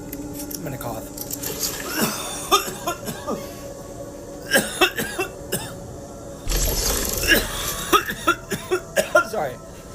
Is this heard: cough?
yes